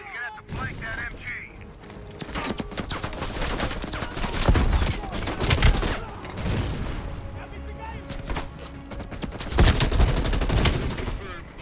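Video game battlefield of Call of Duty Cold War, with dense bursts of machine gun fire and scattered explosive booms, loud and continuous throughout, mixed with game noise and brief voices.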